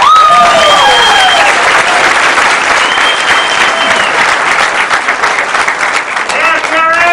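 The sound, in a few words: applause for a senior director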